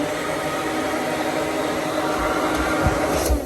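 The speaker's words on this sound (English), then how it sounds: "it is your hairdryer" A hotel-room hairdryer with weak air pressure blows steadily and close, a constant broadband whoosh with a slight rise near the end, at Disney's Newport Bay Club hotel in Disneyland Paris.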